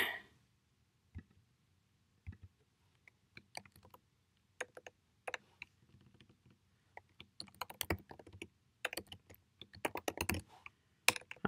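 Keys on a computer keyboard tap out a title in quiet, irregular bursts, sparse at first and then quicker and denser, close up in an otherwise silent room.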